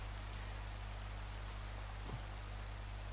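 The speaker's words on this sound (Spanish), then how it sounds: "aquí está lloviendo" Steady Minecraft rain falls as a constant, even hiss with a low hum beneath, no voices, and a brief faint drip or splash partway through.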